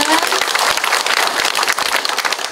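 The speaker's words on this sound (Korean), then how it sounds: "오늘 이렇게 수고하신 백성영 시장님께 큰 박수 부탁드립니다" Audience applause for the mayor at a town residents' meeting in Gangyeong-eup, Nonsan, a dense, steady patter of many hands clapping throughout, close and fairly loud.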